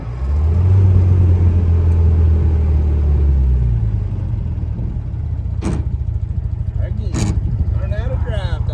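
Engine of a 1959 MGA 1600 Roadster accelerating, a loud, close, low rumbling drone that swells early and then settles into a steady throaty hum, with a few brief squeaks over it.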